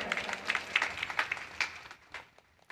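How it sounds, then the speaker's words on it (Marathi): A short burst of hand clapping from a small kirtan crowd, scattered and uneven, thinning out and fading over a few seconds. "हरिभक्तपरायण आदित्य महाराज यांच्यासाठी एकदा जोरदार टाळ्या वाजवा"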